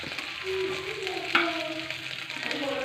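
Onion, green chilli and garlic sautéing in coconut oil for tomato chutney, a close continuous sizzle with a brief sharp stirring clink midway.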